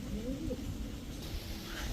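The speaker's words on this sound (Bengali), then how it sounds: "এখন দেখাবো এক জোড়া হোয়াইট ড্যানিশ কবুতর" A pair of White Danish pigeons coo softly and continuously at close range, the low rolling calls repeating over a steady background murmur.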